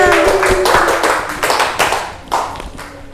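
Several people clap in a classroom microteaching session, a loose uneven burst of close, sharp hand claps that thins out and trails off into a few scattered claps toward the end.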